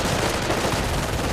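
Machine gun fire in the real-time strategy game Company of Heroes, a dense, loud, continuous rattle of rapid shots filling the whole moment with no voices.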